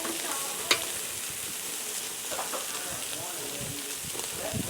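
Pork belly frying in a pan with a loud, steady crackling sizzle and one sharp pop near the start, close and continuous with no talk.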